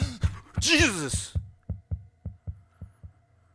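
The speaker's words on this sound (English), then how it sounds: "the sounds that you hear in this game of your heart beating fast" Rapid heartbeat effect from a horror video game, a steady run of deep thumping pulses that follows a brief burst of speech and a breathy sound, each beat loud, close and evenly spaced.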